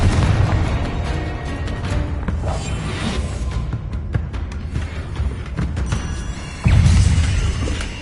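Confringo and Bombarda spell explosions in the video game Hogwarts Legacy make a loud, continuous roar of booms, whooshes and bursts over dense game noise, with a heavier blast near the end.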